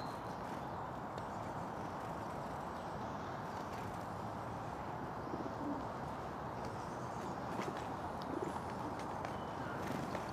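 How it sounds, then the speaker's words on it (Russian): Pigeons coo softly amid a steady outdoor background hum, with occasional faint flutters and scuffles. "Голуби дерутся."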